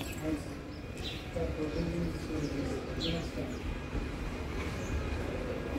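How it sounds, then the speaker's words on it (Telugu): Various birds outside a home in the morning give faint scattered chirps and soft coos at a distance, a few brief calls over low background rumble while someone talks. "బయట ఎన్ని రకాల పక్షులు వచ్చినాయి"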